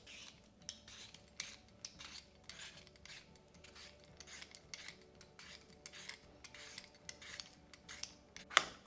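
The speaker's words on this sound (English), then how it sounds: "I'm just cutting the potatoes into chunks" A knife chops peeled, medium-small potatoes into chunks, giving a steady run of close, crisp cuts and scrapes with light knocks against a board.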